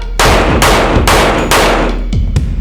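Rapid bursts of fire from a Turkish-made domestically produced rifle on a shooting range, five sharp loud shots spaced about half a second apart with echoing tails, no talking.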